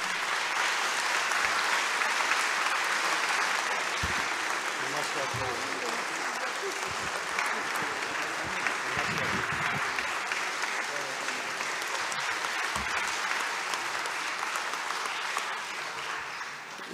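Sustained audience applause fills a formal academy ceremony hall, a dense steady clatter of many hands at even loudness throughout, with faint voices underneath.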